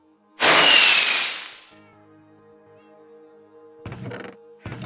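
A single loud firework bursts in the Minecraft video game, a sharp blast with a crackling tail that fades over about a second, followed by quieter game sounds and a couple of soft thumps.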